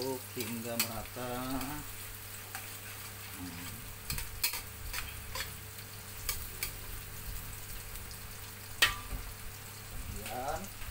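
Pounded cassava leaves fry in a pan with onion while being stirred, giving a soft low sizzle with scattered scrapes and taps of a utensil, and a voice talks briefly at the start and end.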